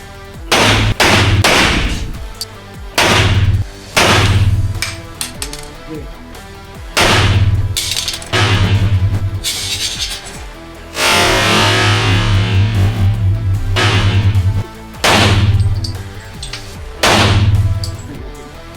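Shots from a Para 1911 .40 caliber pistol fired indoors ring out as sharp, loud reports, about ten of them at uneven intervals, each booming and echoing briefly in the enclosed room. A longer burst of crackling noise falls in the middle.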